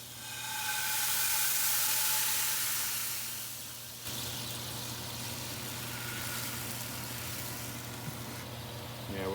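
Honey whiskey sizzles in a hot pan as its alcohol cooks off, a steady loud hiss with bright crackle that eases slightly partway through and carries on alone without talk.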